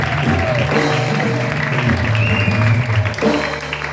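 A church congregation applauding and acclaiming the Lord during a service, loud sustained clapping and cheering mixed with music and voices, continuous throughout.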